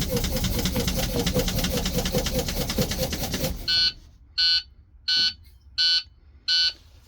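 On a school bus, a loud engine rumbles, then cuts off and the low air pressure dash beeper sounds five evenly spaced, piercing electronic beeps in near silence.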